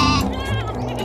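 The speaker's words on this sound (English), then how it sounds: "G for goat." A goat gives a single short, wavering bleat, clear and close, over a light musical backing from a children's alphabet song.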